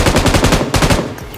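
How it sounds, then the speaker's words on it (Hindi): An M249 machine gun fires in a video game, producing a loud, close, rapid burst of evenly spaced shots that breaks briefly and then continues in a second burst. "शानदार तरीके से M249 के 2 हेडशॉट चिपका के खत्म करता है"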